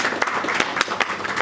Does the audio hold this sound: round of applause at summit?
yes